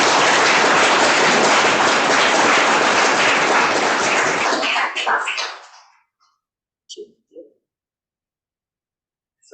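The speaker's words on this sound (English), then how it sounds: "give it a round of applause" An audience at a talk on Mesozoic marine reptiles gives a hearty round of applause for about five seconds, fading out before a few faint thumps.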